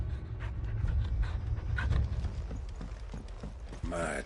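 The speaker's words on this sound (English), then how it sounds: "Mad dogs. A lot of them." A pack of mad dogs in Final Fantasy XVI panting and running, a dense rush of padding feet, breathing and scuffling under a constant loud game soundscape, with a sharper yelp-like burst near the end.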